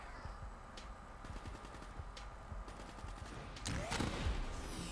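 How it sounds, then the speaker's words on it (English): A sniper rifle fires in Black Ops 3 Zombies: sharp single shots crack at uneven intervals over steady game ambience, ending in a louder, busier burst of action. "Oh, a sniper."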